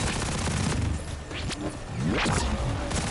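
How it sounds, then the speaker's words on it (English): Rapid Gatling gun fire in Borderlands 4, a dense fusillade of shots with sharp whooshing and ricochet-like sweeps mixed in. The firing is loud and continuous throughout. "that Gatling just, when it goes burr, man,"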